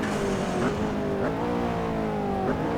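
A McLaren P1 laps Zwartkops in Assetto Corsa, its engine droning steadily and loudly as the pitch climbs and drops through several quick gear changes.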